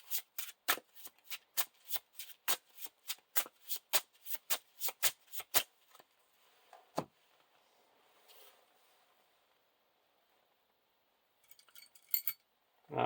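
Cards being shuffled into the encounter deck of a Lord of the Rings card game, a rapid run of crisp riffles and snaps for several seconds, then near silence with a few stray taps and a final flurry.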